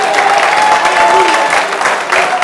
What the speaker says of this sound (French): Et on acclame le Seigneur.